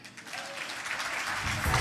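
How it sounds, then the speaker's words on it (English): Steady applause from a crowd, a broad wash of clapping that holds at an even level and swells slightly near the end. "Will you please give a warm round of applause and a big welcome to Jacinta Kitt."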